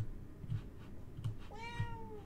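A cat meows in the video game Resident Evil Revelations 2, with a few soft meows over low background game ambience, ending in a clearer, drawn-out meow.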